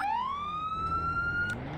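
A police car siren in the Roblox game ERLC rises in a single smooth upward wail and then cuts off suddenly, loud and close over a low engine drone, with no speech.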